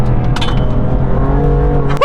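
A BMW M2 Competition with its S55 engine drones loud and close as it corners on a narrow British B road, a steady throaty engine note with slight rises in pitch.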